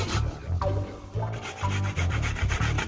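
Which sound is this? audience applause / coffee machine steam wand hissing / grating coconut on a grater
grating coconut on a grater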